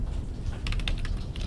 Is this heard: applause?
no